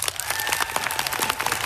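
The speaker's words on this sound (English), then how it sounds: "So applaud really loud if you think she's an engineer." An audience at a Canadian space strategy event applauds loudly for a woman guessed to be an engineer, a dense continuous wash of many hands clapping with faint cheering underneath.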